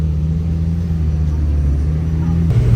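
A McLaren Senna supercar's engine gives a steady, loud low rumble, holding an even droning tone before shifting slightly near the end, with no voices over it.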